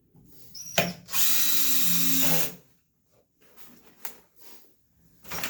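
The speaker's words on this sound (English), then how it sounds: "Line up with the marks, screws are started. Screw the board." A power drill drives screws into a treated wood board for a 45-degree ramp, with a short burst followed by a sustained whirring run of about a second and a half, then scattered clicks and brief taps.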